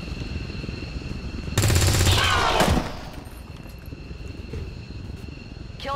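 Sustained automatic gunfire from a soldier's weapon in XCOM 2 Long War 2 rattles loudly for about a second and a half over steady game ambience, then cuts off.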